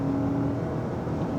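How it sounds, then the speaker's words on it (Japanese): A Toyota Sienta engine strains at full throttle, producing a short, steady, droning whine that is close and fairly loud, with no talking. "アクセルをガンと踏み込んでエンジンをフルに回していった時のこの"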